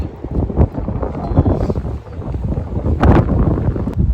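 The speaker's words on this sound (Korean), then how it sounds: "맞바람이 많이 불고 있어" A strong headwind gusts across the Dongbusan CC golf course, buffeting the microphone with loud, uneven low rumbling and occasional sharper bursts.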